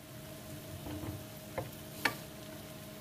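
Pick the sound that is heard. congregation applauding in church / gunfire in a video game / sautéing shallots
sautéing shallots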